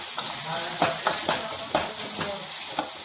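Food sizzles steadily in a pan after salt goes in, for a dodka (ridge gourd) chutney, with several sharper stirring scrapes and crackles bursting over the constant bright hiss.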